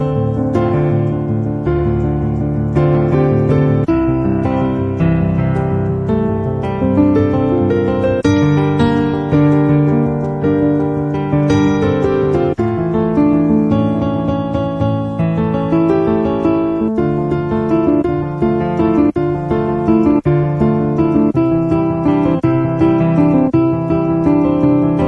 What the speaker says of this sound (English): So rhythmic intro for a 6-5-4 progression song can sound something like this.